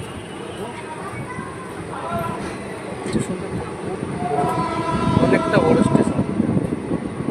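The Jangipur Road to Kolkata express, number 13146, pulls out of Bazarsau station with a rising rumble and clatter of wagons while someone talks over the noise.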